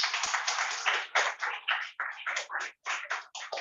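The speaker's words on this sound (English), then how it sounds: "Applaud yourself." Clapping from a small group at a school prize-giving ceremony, a close run of uneven hand claps with short gaps and no voices.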